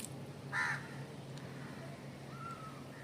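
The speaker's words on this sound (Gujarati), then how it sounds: "બાકી મોર ને કાગડા ને એવું બોલે છે" Crows caw outdoors during stormy weather, a single loud harsh call near the start followed by fainter distant caws over a steady background of wind and ambient noise.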